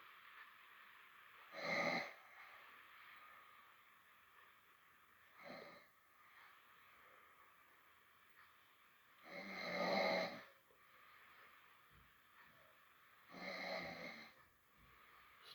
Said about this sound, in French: Et je ronfle fort